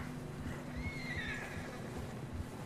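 A horse in snow in the video game Red Dead Redemption 2 gives one long, wavering whinny over a low, steady background of wind and hoof movement.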